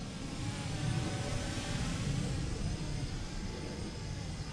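An E55 Air brushless mini drone flies with a continuous, fairly faint whirring buzz of its motors, steady with only slight swells and no voices.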